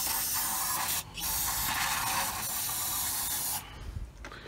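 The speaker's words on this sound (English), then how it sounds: "we'll put some starting fluid in it too" Starting fluid sprayed from an aerosol can into a 4.3 OMC Cobra engine on a 1990 Four Winns 180 Horizon boat, a loud continuous hiss broken by one brief pause before it cuts off.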